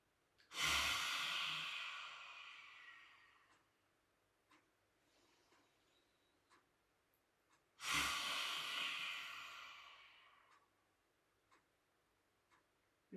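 Two deep, forceful breaths during a yoga practice, each a loud rushing exhale lasting about two to three seconds, separated by quiet pauses with faint ticks and small sounds.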